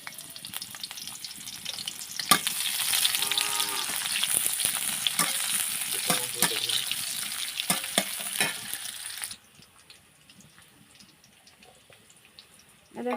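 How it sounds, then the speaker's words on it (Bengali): Meat frying in hot oil in a wok, a dense continuous sizzle with scraping stir strokes for most of the clip, then dropping abruptly to a quieter hiss near the end. "এখন চুলায় আমি কড়াই দিয়েছি, দিয়ে এখন তেল দিলাম। মাংসটা আমি এখন তেলানি দেব।"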